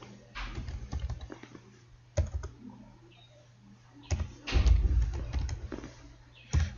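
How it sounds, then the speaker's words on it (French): Keys clack on a computer keyboard as the MySQL command show databases is typed, in short bursts of clicks with pauses between, close and fairly loud, ending in a heavier run of keystrokes. "Je tape la commande show databases."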